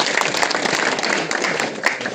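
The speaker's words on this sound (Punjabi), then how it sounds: "ਤਾੜੀ ਦਾ ਬਣਦੀ ਆ ਨਾ ਹੁਣ" A crowd applauding at a public gathering in Punjab: loud, dense clapping from many people, sustained and fairly close throughout.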